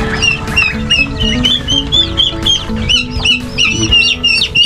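Chickens clucking and calling in a busy, overlapping chorus at an afternoon feeding, the birds close and loud with steady low background rumble throughout.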